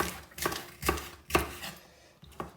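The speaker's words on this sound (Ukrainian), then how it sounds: "Пам'ятаєте нашу пекінську капусту? Просто я її ось так поріжу." A knife cuts napa cabbage on a cutting board, with five distinct chopping thuds at a slow, slightly uneven rhythm. The strokes are close and moderately loud, with quiet pauses between them and no talking.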